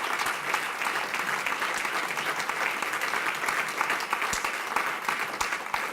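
Sustained audience applause fills a party congress hall in Belgium, dense and steady for the whole stretch with sharper individual claps standing out now and then, and no voices over it.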